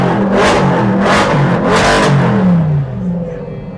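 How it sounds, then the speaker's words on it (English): A Corvette exhaust revs repeatedly in loud, rising bursts, three strong pulses close up, then settles to a lower rumble. "More than enough exhaust."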